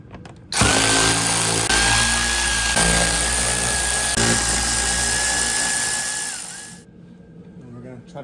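A power tool spins continuously for several seconds while removing 10 mm bolts from underneath a BMW 330i xDrive, a steady loud whine that winds down near the end before quiet shop noise returns.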